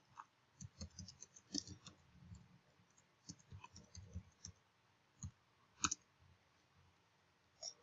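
Keys on a computer keyboard click quietly as an email address is typed, in an irregular run of light taps with a few louder clicks near the end.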